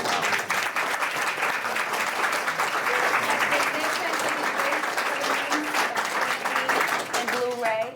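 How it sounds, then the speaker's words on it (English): Press-conference audience applauding a film's cast, loud sustained clapping from a crowd with voices talking and calling out over it toward the end. "everyone give them a round of applause"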